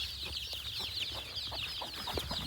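Chicks and hens cluck and cheep together in a flock of around 400 chickens, a steady busy chatter of short calls with a constant high peeping, nearby and with no voices over it.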